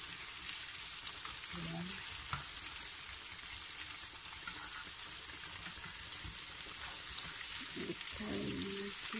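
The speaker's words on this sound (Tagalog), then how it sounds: "So, iprito lang natin, guys, hanggang sa maluto." Pieces of chicken frying in hot oil for homemade KFC-style fried chicken, giving a steady loud sizzle that runs throughout, with a few faint clinks of stirring and a brief word spoken over it.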